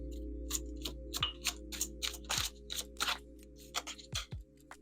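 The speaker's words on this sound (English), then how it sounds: "Just shuffling some tarot." Tarot cards being shuffled by hand, a series of crisp, brief riffling snaps and taps at an irregular rhythm, close and fairly quiet over a faint steady electrical hum, with no talking.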